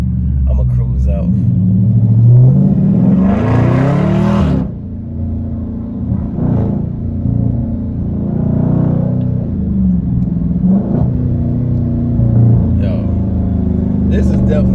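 Deep rumbling engine and exhaust of a 2021 Dodge Charger Widebody Scat Pack driven in track mode, loud and close inside the car, swelling with revs and carrying on under steady talk.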